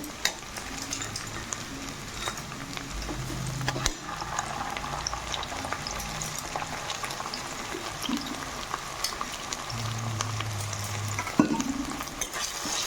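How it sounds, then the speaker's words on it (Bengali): A spice paste of cumin, cardamom, ginger and garlic fries with browned onions in a pan, a steady close sizzle and bubbling hiss with intermittent stirring scrapes and soft thuds. "মশলা দিয়ে ভেজে নেব।"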